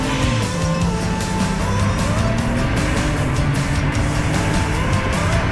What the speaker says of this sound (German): Ich fahre heute einen Mercedes-Benz CL600 V12 Biturbo.